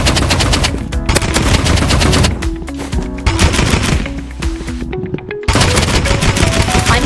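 Rapid automatic paintball gun fire in a video game, dense strings of sharp shots in continuous bursts with a brief pause midway, loud and close with no talk.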